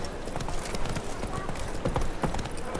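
Roach, the horse in the video game The Witcher 3, clip-clops at a steady walking rhythm. The hooves sound close and clear over a constant outdoor game ambience, with a few sharper footfalls near the end.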